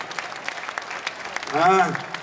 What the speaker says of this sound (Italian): Fagli un applauso qua